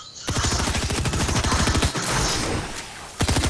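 Fortnite gunfire pounds out as loud, rapid automatic bursts, one long string of evenly spaced shots, a short pause, then another burst close up.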